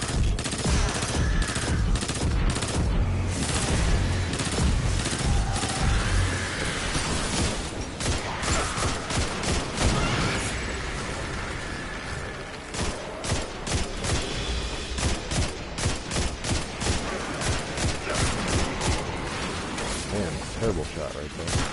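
Rapid gunfire in the shooter Destiny 2, dense bursts of shots and automatic fire in near-constant rhythm, loud and close, with a few short pauses between volleys.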